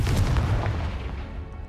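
A short, booming burst from the Confringo blasting spell in Hogwarts Legacy, heavy and low, decaying quickly over a second or so.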